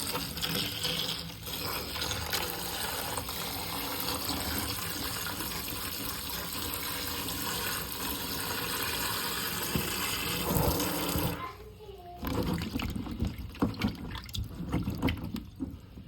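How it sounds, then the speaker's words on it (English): Natural seasoning vegetables rinsed under a running kitchen tap, a steady, close rush of water for most of the stretch, then breaking into splashier, uneven spatters as the produce is handled. "So make sure you wash your seasoning."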